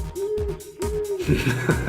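Two owl-like hoots, each a steady held tone, followed by a busier stretch of scattered noise. Fairly close and moderately loud, with no one talking.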